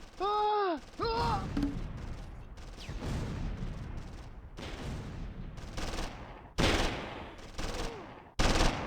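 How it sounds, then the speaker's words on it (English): Cannon blasts and machine gun bursts from the Close Combat 3 war game on the Russian Front, a dense barrage of loud overlapping shots and booms with a few short tonal effects near the start. "With the infantry and tank crews under cannon and machine gun fire,"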